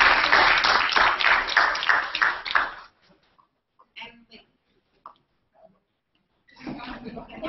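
A burst of clapping from a small crowd for a few seconds, then it stops; faint scattered sounds, and clapping briefly returns.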